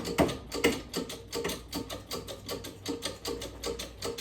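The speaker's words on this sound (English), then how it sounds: "we'll move our little collection container under the hydraulic press and just start cranking it down" A hydraulic press cranked down on dried herbs to squeeze out tincture liquid gives a fast, even series of close mechanical ratcheting clicks with a faint, quiet background.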